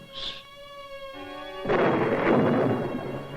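A thunderstorm in the Grand Canyon area. Sustained tones play first, then a loud, broad rumble of thunder breaks in and rolls on steadily through the rest of the clip.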